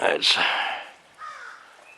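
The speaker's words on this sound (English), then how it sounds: "Of course there are some crows up here too." Crows caw outdoors in a windy open spot, two or three harsh, rasping calls close by in quick succession, the last one fainter.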